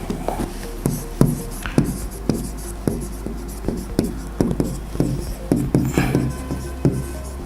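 Repeated soft taps and scratchy strokes of a stylus writing on a Logic interactive display screen, close and fairly steady in rhythm, with a constant low hum underneath.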